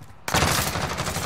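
Gunfire in a Call of Duty Warzone match on a Halloween map: a sudden loud burst of rapid overlapping shots breaks in after a brief lull and continues as a dense, sustained barrage with no talking.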